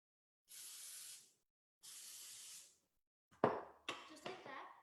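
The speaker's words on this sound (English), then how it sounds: "Just open it, spray some of this" Cooking spray hisses onto the top and bottom plates of an open waffle maker in a kitchen, two distinct steady bursts about a second each, followed by clattering and brief voices.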